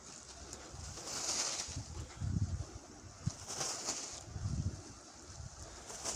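Soft pigeon cooing repeats in low rounded phrases, with airy rustling and faint flutters in the background.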